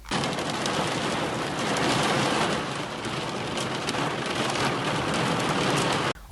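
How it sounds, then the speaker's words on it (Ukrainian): Heavy rain mixed with hail pounding down in western Ukraine, a dense, steady, loud roar of drops and pellets that holds for several seconds without a break before cutting off abruptly. "На заході України влупив дощ із градом."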